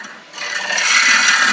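Turning tool cutting into a yew bowl spinning on a woodturning lathe, a short, loud, continuous rasping scrape that swells after a brief quieter start, close up with no voices.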